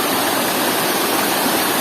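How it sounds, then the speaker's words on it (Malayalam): Loud, steady roar of water rushing over rocks in a forest stream, a dense unbroken wash of sound close by with no voices. "വെള്ളത്തിൻ്റെ ഭയങ്കര സൗണ്ട് കിട്ടുന്നുണ്ട്"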